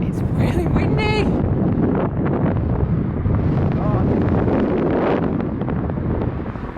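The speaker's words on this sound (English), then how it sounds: "it's really windy" Strong wind batters the microphone on a bike ride across flat country, a loud continuous roar that gusts up and down, with a brief voice near the start.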